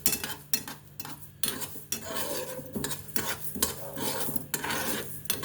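Red chillies being fried and stirred in a pan for a spicy Telugu aavakaya pickle, with a spoon scraping the metal in a fairly steady rhythm and a low sizzle running underneath.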